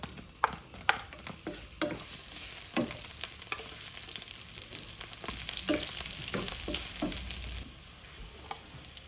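Chopped garlic sizzles in hot oil for sardines, with a steady close frying hiss broken by sharp crackles and pops, and a spoon or spatula clinks now and then.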